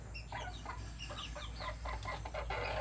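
McLean x Miner blue gamefowl hens cluck repeatedly in short, close bursts over a steady low background hum, with no talking.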